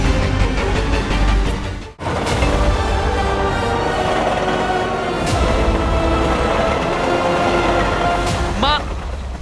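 A train rumbles loudly in a fantasy TV show scene, a dense steady roar of wheels and engine with a sharp whistle-like squeal near the end, under dramatic music and effects.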